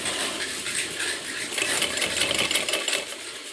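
A sewing machine stitching piping onto a child's dress, running as a steady, fast, continuous mechanical whir throughout, close and fairly loud with no talking.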